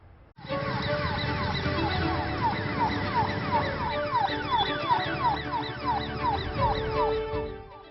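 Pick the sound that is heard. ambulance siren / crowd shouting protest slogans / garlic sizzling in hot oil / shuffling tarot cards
ambulance siren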